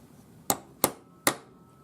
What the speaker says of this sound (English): So I'm using a center punch, and I'm just going to